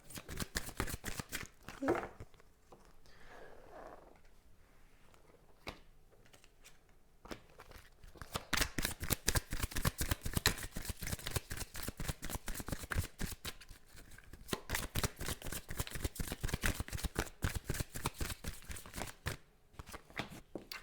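Tarot cards are shuffled for a love reading, starting with a few scattered card sounds and soft handling, then becoming dense, rapid, crisp riffling that continues for a long stretch, close to the mic.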